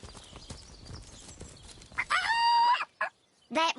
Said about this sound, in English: That rooster thinks he's such hot stuff, posing for Jerome like that.